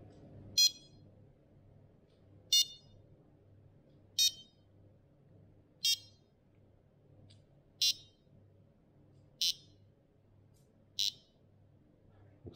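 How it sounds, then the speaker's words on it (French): Sonik Gizmo alarm control unit cycling through its ringtones: seven short, sharp electronic beeping bursts spaced about one and a half seconds apart, clear and close over a low steady hum. "On va écouter les sonneries."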